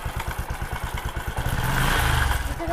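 Small motorbike engine ridden on a road, a steady pulsing putter that rises into a louder, rougher revving midway, close and with no talk.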